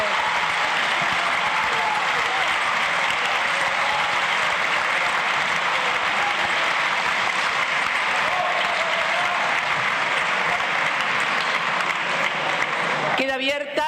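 Sustained, dense applause fills the Argentine Legislative Assembly chamber at its opening session, a broad crowd roar of clapping holding steady and loud for over ten seconds before breaking off abruptly.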